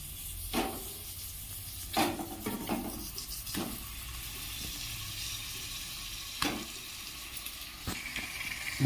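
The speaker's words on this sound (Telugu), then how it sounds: "ఇప్పుడు ఇందులో చేప ముక్కలు వేసుకున్నా." Fish pieces sizzle in a pan of Telangana-style fish curry gravy, a steady close frying hiss broken by several sharp clatters and plops as the pieces go in, with no talking.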